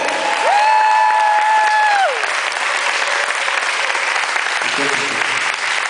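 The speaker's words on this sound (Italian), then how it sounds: "Un applauso ad Emilio!" Loud, dense audience applause fills the whole stretch, with a drawn-out high cheer or whoop rising over it near the start.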